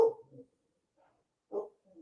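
A dog in a home gives two short, muffled barks, spaced apart and fairly faint, with silence between them.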